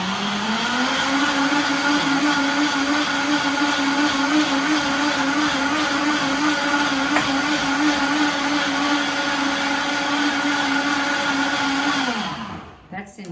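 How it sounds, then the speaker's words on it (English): A blender whirs loudly and steadily for several seconds blending mango chia pudding, then spins down and stops abruptly. "And I'm going to put the cover on, blend it."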